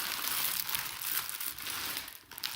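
Plastic packaging around clay moulds crinkles and rustles up close in irregular bursts for a couple of seconds, with no voice.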